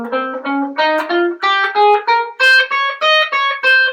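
A minor scale in second position on electric guitar, a rapid run of about a dozen distinct picked notes stepping steadily upward, close and clear with no speech.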